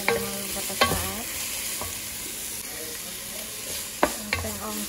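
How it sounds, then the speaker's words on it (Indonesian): Chicken and onions stir-fried in a pan give a steady close sizzle, broken by a few sharp scrapes and clinks of a utensil stirring against the pan, with no voices over it. "Kita masukkan ayamnya. Terus kita masak selama beberapa saat."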